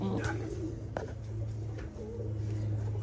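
Show pigeons of the Kakite breed cooing in a loft, soft repeated coos and a few wing or foot sounds close by over a steady low hum, with faint background talk.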